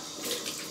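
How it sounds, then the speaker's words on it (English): Brief splash of tap water at a bathroom sink during a wet shave with a 1958 gold Fatboy razor, a close, soft hiss of running water with a quick slosh. "More water on my face first."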